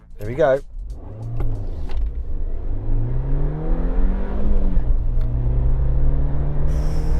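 A regular Suzuki Jimny accelerates hard from a standstill to 100 km/h, its engine drone climbing in pitch and dropping at a gear change before pulling steadily again, heard loud from inside the car.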